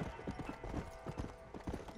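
Horse hooves clip-clop at a steady, quick gallop in Red Dead Redemption: Undead Nightmare, with regular thudding beats throughout against a busy game background.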